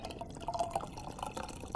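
Hot steeped tea poured into a jug of distilled water for kombucha, a close, steady trickle and splash with brief dripping accents throughout.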